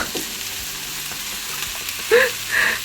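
Sliced eggplant sizzling in a pan for a dry Korean-style stir-fry, a soft continuous crackle with a couple of sharper clinks of a utensil near the end, no talking.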